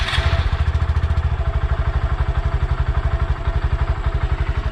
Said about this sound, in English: let you hear the factory exhaust, which is godly quiet